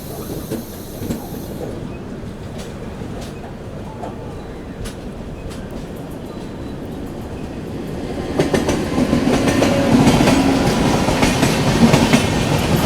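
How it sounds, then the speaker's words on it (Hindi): Kamrup Express hauled by a Howrah-shed WAP-7 electric locomotive rolls past on the rails near NJP, a steady clatter of wagons swelling louder toward the end as it draws close, with rain-soaked ambience throughout. "सामने से डिपार्चर लेकर के आ रही है आप लोगों की कामरूप एक्सप्रेस हावड़ा शेड के वेब 7 के साथ"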